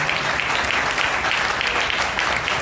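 A church congregation at a Good Friday service breaks into loud, dense applause that fills the space continuously, with no voices heard over it.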